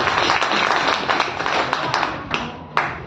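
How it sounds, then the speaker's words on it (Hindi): People at a business meeting in a hotel clap for themselves, a close crowd of hand claps with a few sharper single claps standing out as it tapers. "आप अपने लिए भी तालियां बजा सकते हैं"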